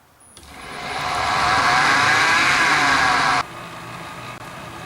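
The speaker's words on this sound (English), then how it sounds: "Well, the lathe is back in action." A wood lathe on a reinforced stand starts up and its motor hum rises and holds steady for about three seconds before cutting off abruptly, leaving only a faint background hum.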